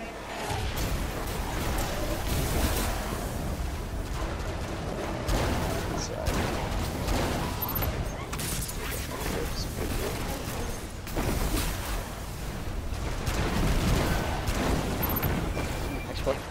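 Rapid gunfire and booming weapon blasts from a Destiny 2 raid boss fight against Calus, sustained and dense throughout, with players' voices talking over the shooting.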